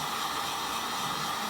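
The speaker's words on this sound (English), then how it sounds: "I have a heat gun, my Wagner." A Wagner heat gun blows a steady, even whooshing roar close by while drying watercolor paint on paper, constant and uninterrupted with no voices.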